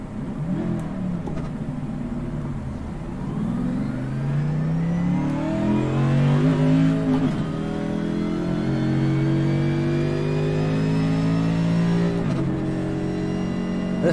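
A race car out on a test run after a front anti-roll bar change, its engine revving steadily through the gears at close range, rising pitch sweeps repeating as it accelerates, with no talking.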